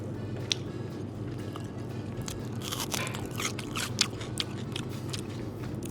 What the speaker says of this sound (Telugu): ఉల్లిపాయ కొరిగితే సూపర్